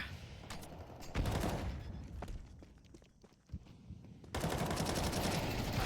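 Gunfire during a competitive first-person shooter video game match, sharp bursts of rapid shots and scattered single cracks with footsteps between, sometimes near and loud, sometimes quieter, under faint commentary.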